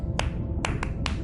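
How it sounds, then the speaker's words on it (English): Sperm whale clicks from the underwater game Beyond Blue form a 1+1+3 coda: two spaced single clicks, then three quicker ones, short and dry over a constant low ocean rumble. "Sperm whales make clicks in sort of rhythmic patterns that we call codas."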